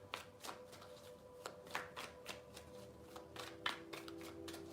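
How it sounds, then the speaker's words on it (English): A tarot deck shuffled by hand, with soft, crisp card riffles and taps repeating in a steady rhythm, quiet and close, with no talking. "Three shuffles."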